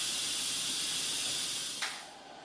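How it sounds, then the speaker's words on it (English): Steam hisses steadily and loudly from a pressure cooker vent, a broad continuous jet that holds almost unchanged before a brief sharp spurt and a slight drop in strength near the end. "take it outside to vent the steam out"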